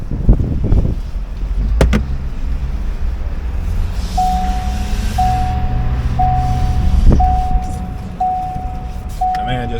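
A Ford F450 Super Duty tow truck fitted with a Lil Herc 2.0 pulls away, its engine a low steady rumble heard from inside the cab, with a repeating electronic chime and someone talking.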